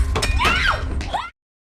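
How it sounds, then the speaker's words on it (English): A head smashed against a bathroom mirror in a home-invasion horror film, a loud impact thud with breaking glass and a shrill scream-like cry, about a second long and ending abruptly. "smashes her head against a mirror"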